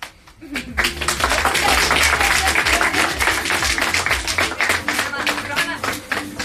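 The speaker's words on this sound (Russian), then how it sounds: "Ребят, с вас приветствие с аплодисментами." Dense clapping from a small studio audience at a radio station starts after a brief pause and continues steadily, with a few voices in the background.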